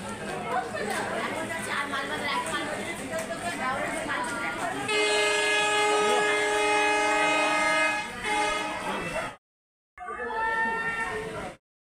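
A train pulls into Banarhat station with a rumbling approach and a long, loud horn blast, while crowd chatter runs throughout before the sound abruptly cuts.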